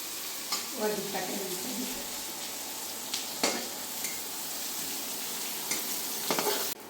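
Onions frying in hot oil with three green chillies for a katla fish curry, a soft steady sizzle with occasional stirring scrapes and utensil clinks, close by and without talk.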